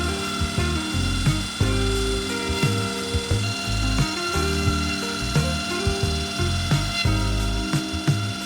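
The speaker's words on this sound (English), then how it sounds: "Finally, through polishing, we will obtain a high-quality handle." A machine polishes a hollow tool handle on a handle production line, giving a steady close mechanical whir with repeated ratcheting clicks and rhythmic knocks throughout.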